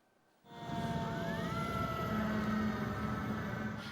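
Rescue-service emergency vehicles head toward a riverside embankment near an airport, their wailing sirens suddenly loud and sustained over rumbling traffic, with rising and falling tones layered together and no voices.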